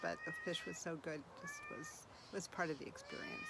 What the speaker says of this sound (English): Apologies for the cat meowing.